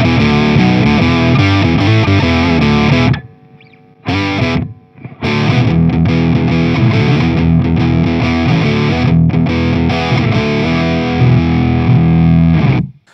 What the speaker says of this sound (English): here is what the super octave sounds like in the mix